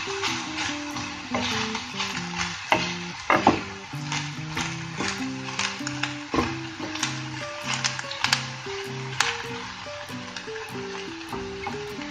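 Celery being stirred in a cooking pot with soft sizzling and irregular scraping of the spoon, set against steady background music.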